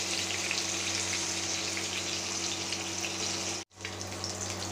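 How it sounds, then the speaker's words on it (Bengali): Fish fry gently in oil over low heat, giving a soft, even, continuous sizzle with one brief dropout near the end. "এখন অল্প আঁচে মাছগুলো ভেজে নিব, যাতে পুড়ে না যায়, শক্ত না হয়ে যায়"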